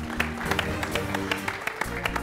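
A studio audience on a television quiz show applauds steadily, a dense patter of clapping with a few sharper claps standing out.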